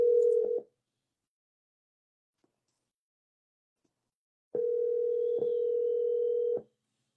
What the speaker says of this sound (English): Let me get this lady on the phone if she answers.